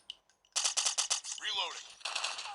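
Gunfire in the mobile game Call of Duty Mobile, with rapid automatic bursts that start after a short quiet lead-in, loud and dense, plus a brief sweeping in-game effect in the middle before the firing resumes.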